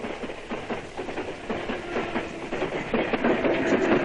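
A train passes on rails, its wagons rolling with a steady clickety-clack and rumbling noise that grows slightly louder toward the end, with no talk.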